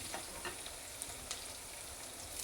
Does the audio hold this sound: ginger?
yes